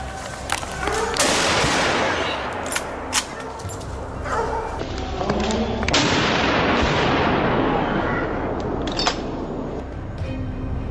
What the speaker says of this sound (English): let a precise burst of shots fly, leaving the hog no room to escape